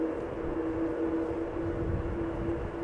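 A Boeing 747 airliner taxis at Amsterdam Schiphol Airport, its engines giving a steady, loud, even drone with a sustained tonal hum and no speech.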